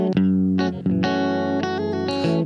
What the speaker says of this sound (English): And I like that jangly amp for these funky tones, British jangle.